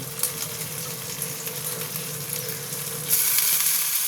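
Pabda fish curry with poppy seed paste sizzles steadily in a hot pan, then a louder, brighter hiss bursts up near the end as hot water is poured in; no voices.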